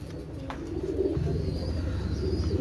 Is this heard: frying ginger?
no